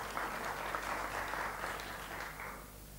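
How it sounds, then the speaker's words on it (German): An audience at a lecture on transculturality applauds in honour of Goethe: dense, steady clapping from many hands that carries on without a break and eases slightly at the end. "Also ein Applaus für Goethe, wenn ich Sie bitten darf."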